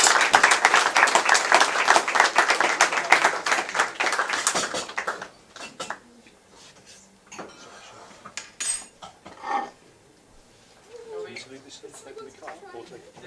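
Audience applause after a cooking demonstration at a Japanese cuisine upskill event, a dense burst of clapping for about five seconds, then quieter room sounds with clinking dishes and cutlery and people talking.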